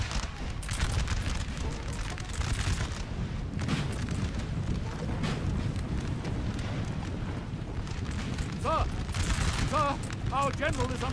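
Grenadiers firing muskets during a Napoleon Total War battle: rolling volleys of crackling gunfire and deep booms fill the scene, with horses whinnying near the end over a constant battlefield din.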